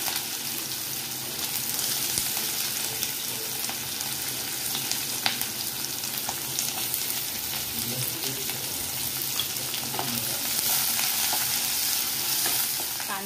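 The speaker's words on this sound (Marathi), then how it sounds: "ब्राऊन झाल्यावर कांदा टाकून घ्यायचा।" Onion fries in a pan with browned garlic and cumin, a steady close sizzle with light stirring scrapes and scattered pops throughout.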